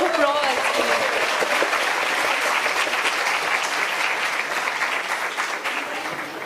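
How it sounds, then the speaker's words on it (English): Loud, sustained applause from the audience at an IMA women leaders event for actor, anchor and author Mandira Bedi, filling the room with continuous clapping that eases slightly toward the end. "can we have another really, really roaring loud round of applause?"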